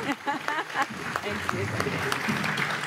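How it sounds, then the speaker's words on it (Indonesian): Audience clapping at a comedy roast event, a lively burst of many hands under a speaker's continuing voice and crowd noise. "Tepuk tangan untuk Ibu Ranto"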